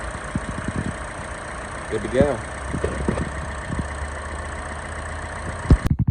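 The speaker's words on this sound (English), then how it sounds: "Engine runs smooth." A Chevy Cruze 1.4 turbo engine idles smoothly with a steady low rumble while someone speaks briefly over it, ending with a few close clicks and knocks.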